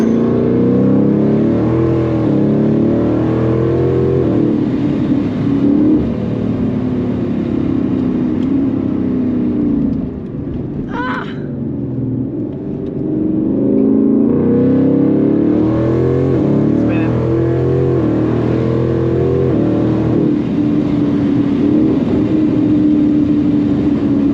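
A Ford Mustang engine pulls hard on a back road, a loud close-up exhaust note rising in pitch through several climbs, dipping briefly mid-run, then building again steadily.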